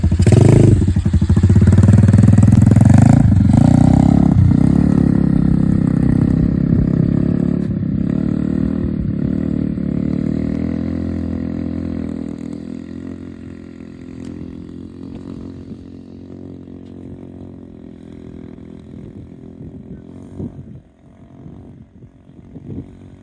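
A motorcycle engine starts with the clutch held in and roars loudly at first, then settles into an idle that slowly fades and grows rougher toward the end.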